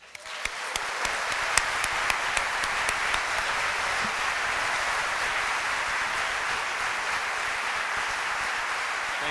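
Sustained audience applause fills a university hall as a guest speaker is welcomed to the stage, steady dense clapping from many hands throughout.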